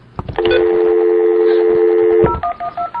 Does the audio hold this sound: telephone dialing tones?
yes